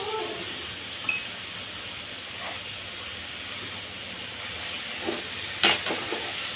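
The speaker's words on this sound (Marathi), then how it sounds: "आता याला परतून घेते जरा" Peas, potato and soybean being stir-fried in a pan give a steady soft sizzle and hiss throughout, with a few light scrapes and clinks near the end; no one talks.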